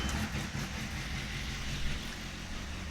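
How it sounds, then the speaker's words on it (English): A motorbike engine with a carbon exhaust running steadily at idle, a low continuous rumble up close with no talking. "Who doesn't love a bike engine, eh?"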